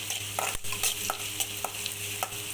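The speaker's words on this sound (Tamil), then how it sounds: "ஃப்ரை பண்ணுங்கள் வெங்காயம் நல்லா வதங்கட்டும்" Onions fry in oil for a home-made egg roast, a continuous close sizzle broken by regular scraping strokes of a spatula stirring the pan, with no talking.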